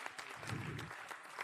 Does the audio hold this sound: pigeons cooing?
no